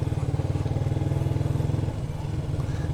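Manual motorcycle engine held at half clutch with the throttle controlled, idling in a steady, close, loud pulsing rhythm that eases slightly toward the end.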